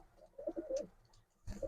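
Pigeons coo softly near a nest with young chicks, two short bursts of throaty, rolling calls separated by a brief quiet gap, close by.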